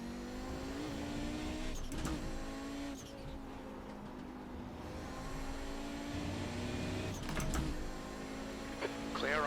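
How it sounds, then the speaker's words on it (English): A race car in iRacing drones along at speed with a steady engine tone, while a faster car approaches and passes with quick swells, and a voice talks briefly over it. "There's a faster car approaching."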